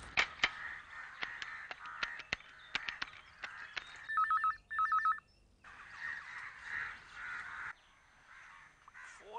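An unanswered telephone rings in short electronic bursts mixed with tones and clicks over a quiet room, moderately close, with crows cawing and no speech.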